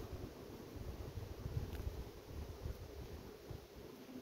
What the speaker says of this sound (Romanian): E o vreme răcoroasă, bate vântul.